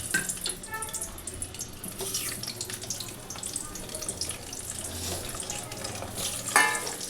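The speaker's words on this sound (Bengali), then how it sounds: "এতে কিন্তু আমি আলুটা দিয়ে দিচ্ছি, ভালো করে আলুটাকে ভেজে নেব" Potatoes fry in hot oil in a pan for chicken egg biryani. A close, steady bubbling sizzle comes with occasional stirring scrapes and a clink near the end, and a voice may sound briefly in the background.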